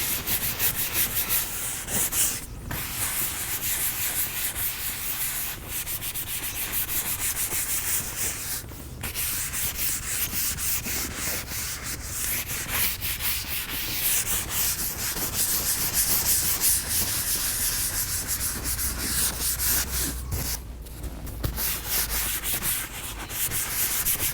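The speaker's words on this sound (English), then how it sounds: "Let's not forget to always go ahead and clean in between the crevices as well." Crevices of the leather seats in a Bentley Continental GT are scrubbed with steady, close rubbing and brushing strokes that run continuously, broken by a few short pauses, with no talking.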